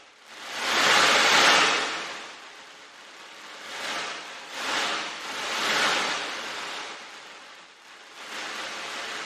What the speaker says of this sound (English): that sounds like fire mixed with waves hitting a beach